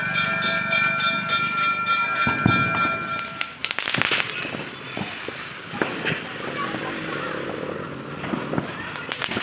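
An idli-type Diwali firecracker goes off with a sharp broadband bang about a third of the way in, followed by crackling and rumbling. Voices talk around it over steady outdoor background noise.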